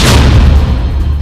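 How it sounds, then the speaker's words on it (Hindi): Explosives blow up the oil tanker Sounion in one loud, deep boom that rolls on as a sustained low roar with no voices. "उसके लड़ाके तेल टैंकर सोनियन पर चढ़ते और उस जहाज को विस्फोटक से उड़ाते हुए दिखाई दे रहे हैं"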